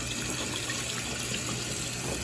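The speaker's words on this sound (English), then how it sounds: "pour this water off gently. Don't drop the quail egg and put cold water back on it." Water running and pouring into a pot of boiled quail eggs in a kitchen, a steady, even splashing rush with no break and no talk.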